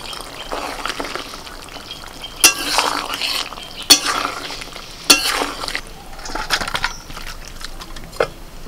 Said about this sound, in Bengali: এবার একটু ঘি দিচ্ছি এক চামচ